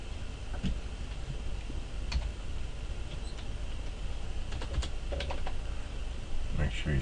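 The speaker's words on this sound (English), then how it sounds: "we're going to type in enable secret" Keys clatter on a computer keyboard while a password is entered at a Cisco router console, a quick irregular run of sharp clicks over a steady background hum.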